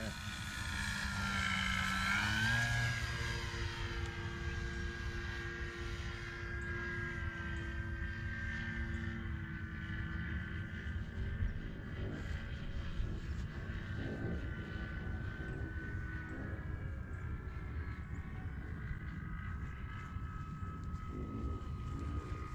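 A Dynam C-188 Air Tractor RC plane flies overhead, its electric propeller whine loud and steady, with a rising pitch sweep early on, then holding a sustained drone as it passes through the air.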